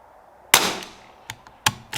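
Sharp .22LR rifle shots firing Lapua Center X match ammunition, a five-round group: one loud crack with a trailing decay, then a quieter shot and a faint one, followed by two more distinct cracks in fairly quick succession, no talk.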